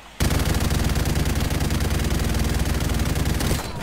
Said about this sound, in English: I'm just gonna go on this saw. Light machine gun here.